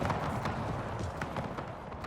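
Horse artillery galloping in a Napoleon Total War Era mod battle, a dense continuous rumble of many hooves clip-clopping together, steady and fairly loud throughout.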